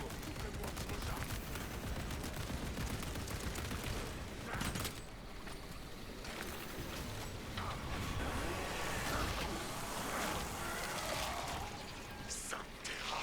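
Bursts of gunfire crackle through a busy battle in Warhammer Space Marine 2, fairly quiet and dense, mixed with game effects and a murky background din.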